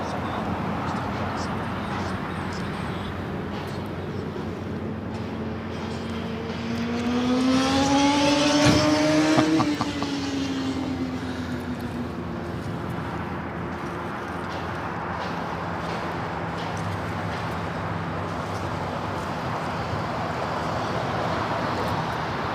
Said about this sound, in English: This is Delta 757-200 coming in from San Salvador, flight 1966.